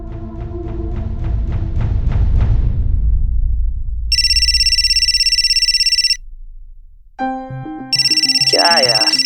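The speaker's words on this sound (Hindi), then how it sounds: "अरे किसका फोन है और आप उठा काहे नहीं रहे?" A loud electronic phone ringtone plays in repeated bursts with pauses between them, following a stretch of music-like tones and background voices.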